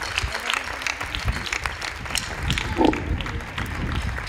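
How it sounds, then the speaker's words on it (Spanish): An audience at an end-of-year municipal music school concert applauds its music professionals, sustained clapping from a crowd with voices mixed in throughout. "Per tant, un fort aplaudiment per ells i moltes gràcies."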